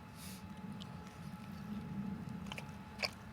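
Close, quiet bites and soft chewing on an empanada topped with green salsa, with a few faint crunchy clicks toward the end.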